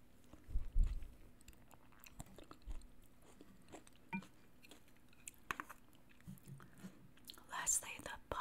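Crunchy chewing while eating kimchi congee comes through close and quiet, with intermittent bites and wet mouth sounds spaced irregularly amid near-silence.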